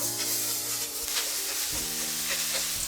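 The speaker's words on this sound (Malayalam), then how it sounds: "എണ്ണ ഏകദേശം ചൂടായ ശേഷം ഞാൻ വെജിറ്റബിൾസ് ഇട്ട് ചെറുതായിട്ടൊന്ന് വഴട്ടിയെടുക്കുകയാണ്." Vegetables stir-fried in hot oil in a non-stick wok, a close steady sizzle broken by scraping stirs and light clinks of the utensil.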